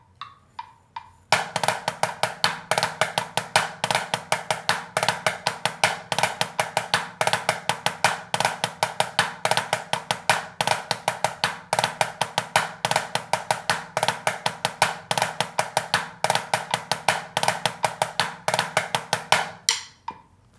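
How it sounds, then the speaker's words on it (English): Drum kit playing drag paradiddles in steady time, with accented strokes leading into quick drag grace notes and even sticking, a dense, rhythmic stream of hits that runs for about twenty seconds with no voice. "It is an accent into a drag, into a paradiddle."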